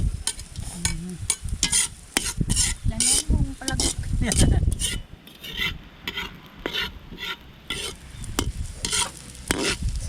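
Garlic and onion sizzle in a pan while a utensil scrapes and stirs them in repeated strokes, close and fairly loud, with a little talk in the background.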